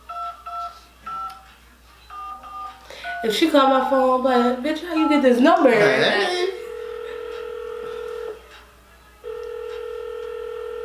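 Phone call being placed on a live radio show segment, with electronic tones and a steady ringback tone sounding loud and close between bursts of lively talk and a brief sung or melodic voice passage.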